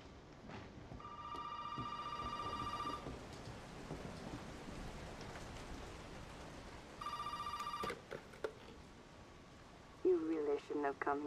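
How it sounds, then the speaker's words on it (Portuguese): An old-style telephone rings inside the Resident Evil 7 video game, two bursts of repeated bell rings over steady rain and thunder, followed by a voice at the end. "O telefone agora."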